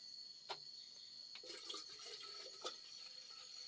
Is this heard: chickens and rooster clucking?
no